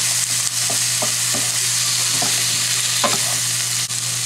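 Tempeh stir-fry with Worcestershire sauce stirred in a hot pan gives a steady, close sizzle, broken by several soft scraping strokes of the spatula, with no talking.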